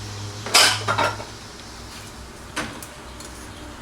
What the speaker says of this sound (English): using a saucepan, just place the tomato and onion and spice mixture into the saucepan